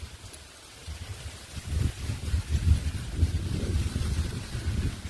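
Strong wind blows near a church, roaring and buffeting against the microphone in low rumbling gusts that swell over several seconds, with no voices.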